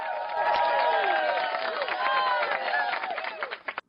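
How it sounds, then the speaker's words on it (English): Cheap canned applause effect played on a radio show, a dense wash of clapping and crowd noise lasting several seconds before fading out. "Our budget applause."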